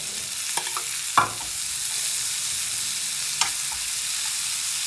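Giant clams and tomatoes being stirred in a frying pan, a steady bright sizzle with a few scraping utensil knocks and clacks against the pan, no voices.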